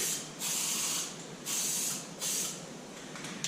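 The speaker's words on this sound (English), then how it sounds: "always keep the spray gun or the spray can moving" A spray can of primer hisses in three steady bursts of about a second each onto a Honda CBR250R motorcycle fuel tank, separated by short pauses, close and fairly loud.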